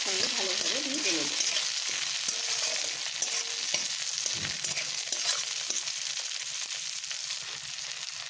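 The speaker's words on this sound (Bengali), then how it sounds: "টমেটোটাকে আমি একটু পেঁয়াজের সঙ্গে ভালোভাবে ভেজে নেব।" Chopped tomatoes and onions fry in a hot pan for an egg dish, giving a steady, close sizzle with occasional stirring scrapes throughout.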